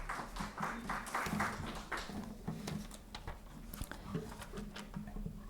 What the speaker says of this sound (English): Please give huge round of applause